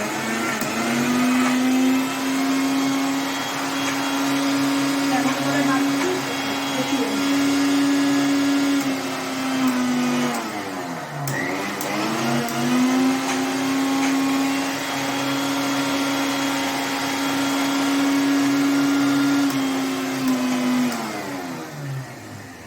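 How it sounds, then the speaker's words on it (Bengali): A kitchen mixer grinder whirs loudly while grinding garlic cloves and green chilies, a steady motor drone that dips briefly midway and then resumes, running alone without talk. "এবার এটা একটু মিক্সিতে বেটে নেব।"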